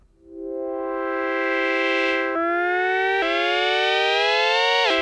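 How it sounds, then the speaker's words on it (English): A DSI Pro 2 synthesizer pad with all four oscillators' pitch swept by an envelope at a heavy amount, a bright buzzy tone gliding upward like a siren, with a few abrupt pitch jumps, loud and sustained with no talking. "Gonna modulate the pitch, all 4 oscillators with envelope 4 here."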